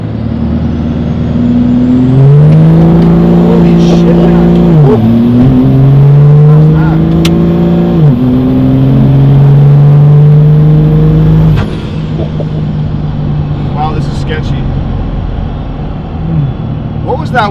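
A 12-valve Cummins diesel truck revs hard during a tire burnout, its engine climbing in stepped surges over a long, loud howl before dropping away into a rumbling idle with faint clunks.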